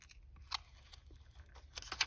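Glued wallpaper on a handmade envelope is peeled back, producing faint, close crackling and tearing ticks in short irregular bursts, growing a little louder toward the end, with no talking.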